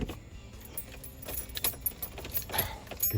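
Car keys jangle near the ignition of a Pontiac G8 with an LS engine swap as someone tries to pull the key out. The metallic rattles come close and repeat in short irregular bursts with no talk.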